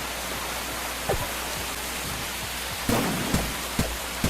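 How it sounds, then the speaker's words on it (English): Rain falls in the video game Forager as a steady, dense hiss, with a few soft thuds scattered through it. No one speaks. "And it's raining again."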